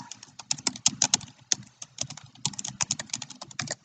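Rapid typing on a computer keyboard while entering a chart title, crisp close key clicks in quick irregular bursts with a short pause midway.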